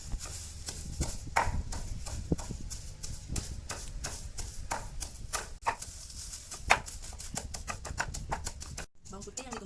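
Garlic pounded with a stone inside a plastic bag, giving a run of sharp, fairly loud knocks in an irregular rhythm with some crinkling between strikes, close up and with no talk over it.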